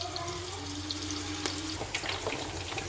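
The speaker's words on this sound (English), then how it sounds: "While my onions is frying with the spices" Onions fry with spices in a pan, giving a close, steady sizzle with occasional crackles and light stirring clinks, no talking.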